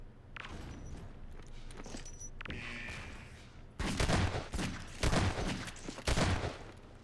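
Magnum shots in a Half-Life 2 Deathmatch one-on-one match: several sharp, loud cracks in the second half, between quieter shuffling and clicks early on.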